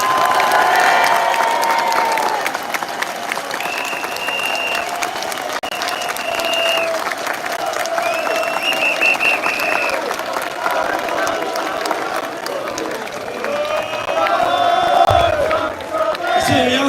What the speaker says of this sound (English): Let's have a round of applause for Tommy Robinson.